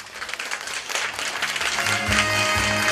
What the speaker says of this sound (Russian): Пусть они вас своими аплодисментами поддержат.